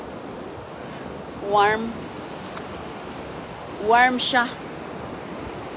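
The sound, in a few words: wind and sea waves at the beach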